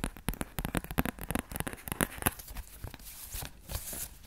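Playing cards being picked up and handled up close in a quiet soft-spoken session, a dense run of crisp papery rustles and flicks that quiets toward the end, with no talking.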